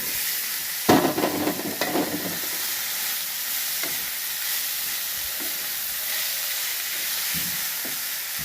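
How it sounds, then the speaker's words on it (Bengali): Cauliflower frying in a pan, a steady loud sizzle with a few clattering stirs near the start and occasional soft knocks, close and continuous without talk. "দেখো এখন আমি বানাচ্ছি কপি ভাজা"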